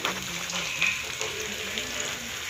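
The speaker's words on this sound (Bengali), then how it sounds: "তেলেতে আলু ভাজা হচ্ছে, বেগুন ভাজাও হবে।" Potato pieces fry in hot oil in a pan, a steady bright sizzle and crackle that carries on throughout with no one speaking.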